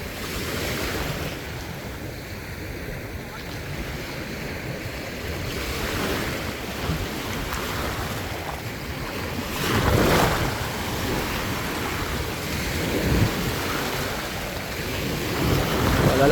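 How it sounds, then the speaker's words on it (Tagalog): Ocean surf rolls and crashes steadily against the shore in a continuous wash, with gusty wind buffeting the microphone and a couple of louder breaking swells. "Lalaki na ng alon ah."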